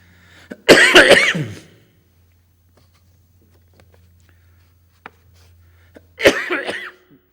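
A person coughs in a hoarse, rattling fit lasting about a second, followed by a long quiet stretch with a faint low hum, then a second shorter burst of coughing near the end.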